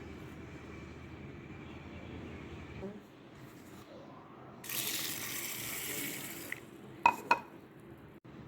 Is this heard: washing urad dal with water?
yes